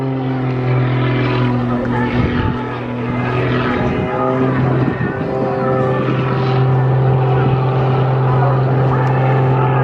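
Small aerobatic plane at an airshow performing snap rolls, its engine droning steadily and loudly with a strong low hum and slight surges throughout.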